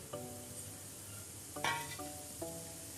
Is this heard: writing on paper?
no